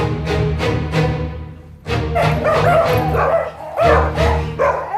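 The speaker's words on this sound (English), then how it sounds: "They go completely bonkers when they see other dogs because they're hooligans." Two schnauzers bark wildly in a rapid, loud, overlapping volley of sharp yaps and higher yips, close by, with barely a pause throughout.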